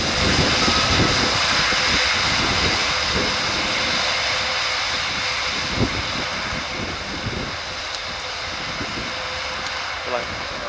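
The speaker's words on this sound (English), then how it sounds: "you'll get to see the A400M coming past you again, because it's going to backtrack the full length of the runway" Airbus A400M military transport aircraft taxiing along the runway at an air show, a steady loud broadband engine roar holding throughout with wind buffeting the microphone.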